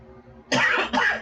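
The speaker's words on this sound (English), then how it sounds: "Yes, I'm still coughing." A person coughs twice in quick succession, loud and close, after a quiet moment; the coughs are raspy and throaty, with no speech around them.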